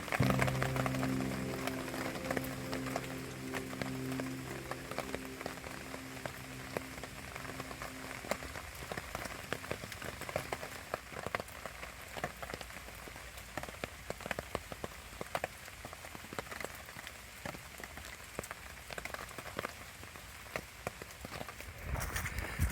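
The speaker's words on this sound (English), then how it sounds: "despite the rain, which has come in again" Steady rain patters down softly and continuously, with a low droning hum fading out during the first few seconds.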